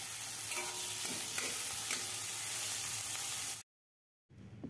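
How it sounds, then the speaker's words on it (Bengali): Chopped tomato hits hot oil with dried chillies and sizzles loudly and steadily, with a few stirring scrapes, before the sound cuts out abruptly near the end. "এরপর এই তেলের মধ্যেই আমি কেটে রাখা টমেটোটি দিয়ে দিলাম"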